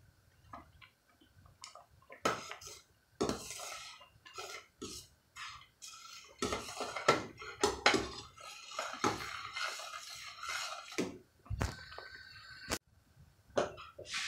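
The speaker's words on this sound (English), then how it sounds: "Now we're going to stir it because we don't want it to stick." Pineapple jam simmers in a pot while a spoon stirs it, giving quiet, irregular clinks, scrapes and soft bubbling pops near at hand.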